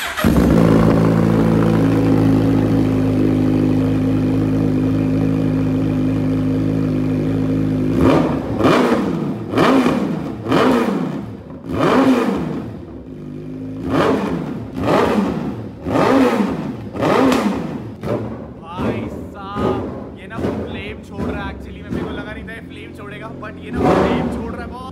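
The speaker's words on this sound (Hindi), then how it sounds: "आपने पहले वाली एग्जॉस्ट की आवाज भी सुनी होगी, बट अब ये चेक करें" A Suzuki Hayabusa with a loud aftermarket exhaust idles with a deep, steady rumble, then barks through a series of sharp, repeated revs that rise and fall in quick bursts, loud and close.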